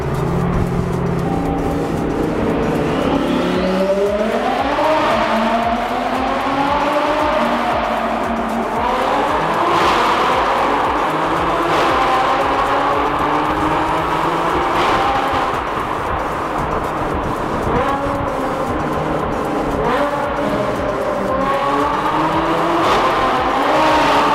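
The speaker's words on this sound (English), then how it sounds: "We're gonna get a little tunnel blasting done with a twin turbo R8 and then my broken S4." A twin-turbo Audi R8 blasting through a road tunnel, its engine rising repeatedly through rapid gear changes, loud and echoing, with a long continuous roar and brief pauses between pulls.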